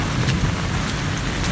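Heavy stormy rain pours down as a dense, loud, continuous wash of noise with no pauses.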